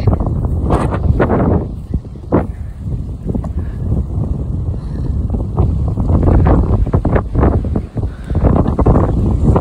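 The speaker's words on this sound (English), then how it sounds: "Woo, it's windy." Strong wind buffets the microphone in loud, gusty rumbles that rise and fall continuously, with no clear voices.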